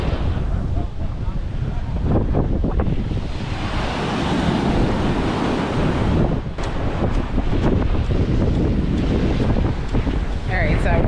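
Strong wind buffets the microphone at a Caribbean beach while rough surf crashes and washes ashore, a loud continuous roar of waves and gusts with no clear breaks.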